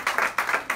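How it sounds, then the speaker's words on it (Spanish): A brief burst of audience applause at a talk on children's literature, a few rhythmic waves of clapping at moderate volume, heard alone. "yo quisiera que le demos un aplauso bien grande"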